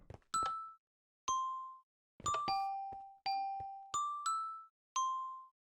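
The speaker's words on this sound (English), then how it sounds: "Oh, that does actually sound like the chimes." Clock tower chimes in Minecraft ring out as a series of about eight bright, clean bell-like dings, each decaying quickly, spaced irregularly with silence between them.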